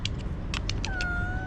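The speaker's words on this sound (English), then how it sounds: "you get a lot of meow meow meow kitty cats just lounging about in the sun" A cat meows outdoors in sunny downtown Dubai, first several short chirpy cries and then one longer drawn-out meow, loud and close over a low ambient rumble.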